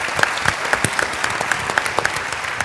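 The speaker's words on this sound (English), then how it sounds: "Let's give them a big round of applause for the incredible job that they've done." Audience applause for the organizers at a Columbia University energy symposium, a steady wash of clapping from a crowd in a hall, moderately loud and even throughout the short burst.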